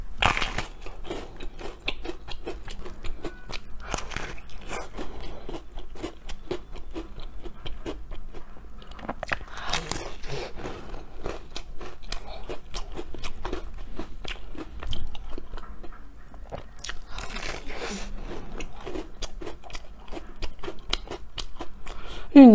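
Crunchy deep-fried taro paste cake being bitten and chewed up close, with dense crackling crunches repeating steadily across the whole stretch and no talking.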